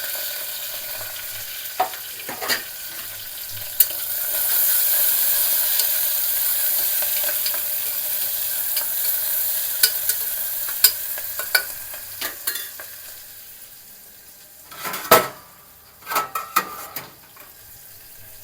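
Chopped green chillies and onion pieces sizzle in hot tempered oil after the seasoning seeds have crackled, a steady frying hiss with scattered clicks and spoon scrapes stirring in the pan, no voices.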